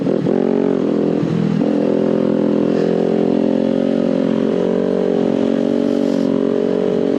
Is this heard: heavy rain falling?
no